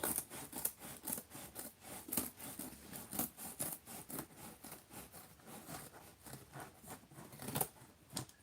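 Something being trimmed down to fit a gift basket of sleep pants makes a steady, close run of rhythmic snipping and rasping strokes, fairly quiet, with no talking.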